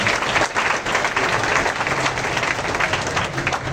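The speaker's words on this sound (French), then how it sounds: "Encore un chaud applaudissement pour Mali." A school audience at a high school's first-day ceremony gives warm applause for an award winner, a dense, sustained roar of many clapping hands lasting several seconds.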